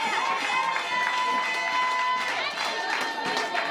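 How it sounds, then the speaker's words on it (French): Audience applause and crowd noise at a school ceremony announcing first-term results, a continuous wash of clapping with some cheering mixed with a faint tonal background throughout. "Applaudissez, mesdames et messieurs."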